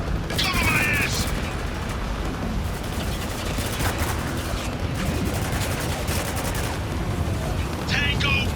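Gunfire in the shooter video game Spec Ops: The Line, a steady dense clatter of shots and mechanical noise running throughout, loud and continuous, with brief voice-like bursts near the start and end.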